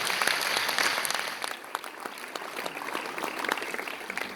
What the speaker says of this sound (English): A round of applause, ladies and gentlemen, for Professor Silva.